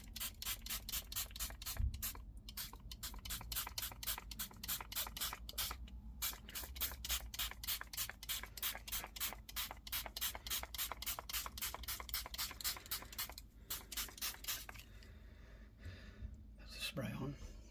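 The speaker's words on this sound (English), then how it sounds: "So we'll spray some layering spray on." An aerosol can of layering spray sprays onto model railway scenery in long continuous bursts with rapid rattling pulses, close by, pausing briefly near the end before a short final hiss.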